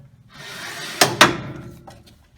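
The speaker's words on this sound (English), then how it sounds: "we'll get to see the results once we pull out the drawer" Drawer of a Unica skin tray sealer being pulled open after sealing film over drumsticks: two sharp close clunks about a quarter second apart over a soft sliding rumble, then a faint knock as it settles.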